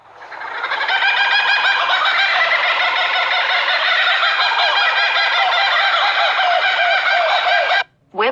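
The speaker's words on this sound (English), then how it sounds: "Kookaburra." A kookaburra's loud, raucous laughing call rises and rolls on continuously for several seconds, close and alone, then cuts off abruptly near the end.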